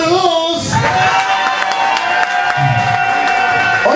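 A crowd of children and adults cheers and shouts in a steady, dense roar with scattered clapping, loud and continuous throughout with voices calling out on top.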